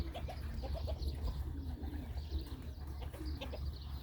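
Pigeons coo softly in repeated low calls while pecking at scattered grain, near and quiet, over a low background rumble.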